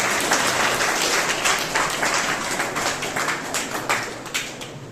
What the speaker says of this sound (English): Let us give them a big round of applause, children, as we welcome the students from France.